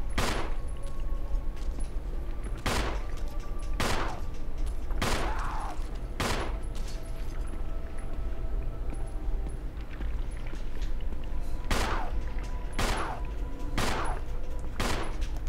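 Gunfire in the video game Resident Evil 1: sharp single shots ring out at irregular intervals, several spaced a second or two apart, loud over a steady background hum.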